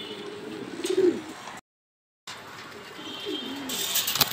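Racing homer pigeons coo in a low, soft murmur, with a couple of clearer coos up close, broken by a short gap of silence and accompanied by faint chirps.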